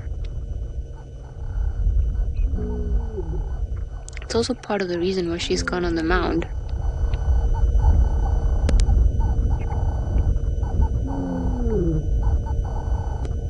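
An outdoor safari drive where a lioness gives soft, low roaring contact calls to find her pride, with faint grunting calls at intervals under steady vehicle rumble and a burst of nearby talk.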